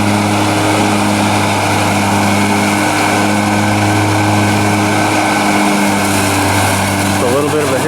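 A remote-controlled riding lawn mower engine runs steadily, a loud constant droning hum with stable tones, briefly shifting near the end as it labours on a slight hill.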